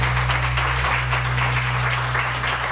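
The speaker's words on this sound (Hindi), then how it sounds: "बहुत सारी तालियां।" Steady audience applause fills the room, a continuous wash of many hands clapping at a live show, with a low steady hum beneath it.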